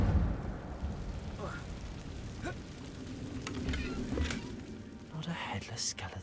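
A fire spell, Incendio, is cast in Hogwarts Legacy: a crackling whoosh of flame with scattered bursts over a rumbling game background, lasting several seconds.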